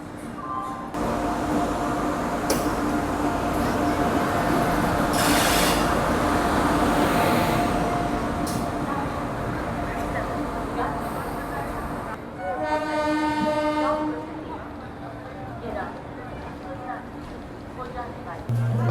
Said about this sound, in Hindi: आज जिस ट्रेन में ट्रैवल करने वाला हूँ वो है train number 12792 Danapur Secunderabad superfast express